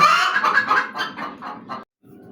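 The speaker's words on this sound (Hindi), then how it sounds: "अंडा देने वाली मुर्गियाँ ये आवाज़ निकालती हैं जब इन्होंने अंडा देना हो और जगह ना इनको मिल रही हो" A laying hen looking for a spot to lay an egg calls nearby in a loud series of drawn-out clucks that fade toward the end, followed by a brief pause and a softer sound.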